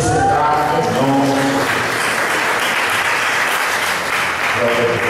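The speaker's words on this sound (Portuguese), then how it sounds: "Você pode aplaudir, glorificar o nome dele" A church congregation at an Assembleia de Deus service claps in loud, dense, steady applause, with faint music or voices showing at the start and end.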